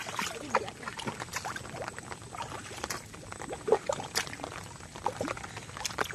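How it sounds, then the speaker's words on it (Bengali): Tidal river current rushes out through a creek in the Sundarbans, a soft continuous watery wash with light splashes and trickles nearby, faint and without talk. "জল হুম করে বেরোচ্ছে, স্রোতের জল।"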